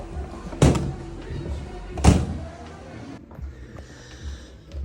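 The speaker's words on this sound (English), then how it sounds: "I just had to close the door there because for copyright music." A door is closed with two dull thuds, the first sharp and the second heavier, followed by quieter room tone.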